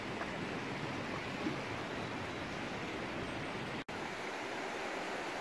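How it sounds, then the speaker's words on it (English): Hebden Water, a river flowing right beside a well-used footpath, gives off a constant broad rushing roar, close and steady throughout, with only a momentary cut near the end. "right by the side of the river, or Hebden Water."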